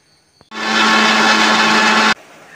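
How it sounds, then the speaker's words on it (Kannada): A mixer grinder grinding soaked rice into batter starts with a sudden loud whirring roar, runs steadily at close range for about a second and a half, then cuts off sharply. "ಇದನ್ನು ಗ್ರೈಂಡ್ ಮಾಡಿಕೊಳ್ಳುವ."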